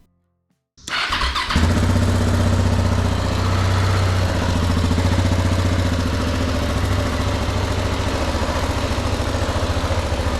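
A stock 2018 KTM 690 Enduro motorcycle starts after a moment of silence, catching quickly and settling into a loud, close, steady single-cylinder idle with no talk.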